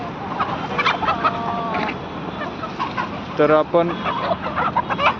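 Native country (gavran) hens and roosters at a poultry seller on Hinjewadi road cluck and squawk in short, repeated calls near the microphone, with someone talking briefly over the birds.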